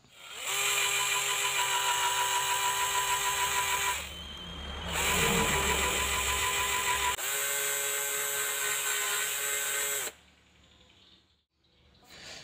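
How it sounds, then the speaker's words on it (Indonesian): A power drill bit enlarges a hole in metal, giving a steady high-pitched whine that runs for several seconds, pauses briefly, restarts, then cuts off near the end. "ini lubangnya akan kita besarkan lagi sedikit menggunakan mata bor"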